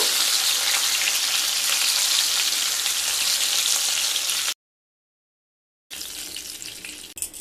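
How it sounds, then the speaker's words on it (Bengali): Pieces of katla fish fry in hot oil in a pan, a loud, steady, bright sizzle that runs continuously, breaks off into silence for over a second, then resumes slightly quieter. "দুটো সাইড মাছ খুব ভালো করে ভেজে নিয়ে"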